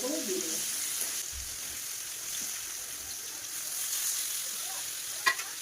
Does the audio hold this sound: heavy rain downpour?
no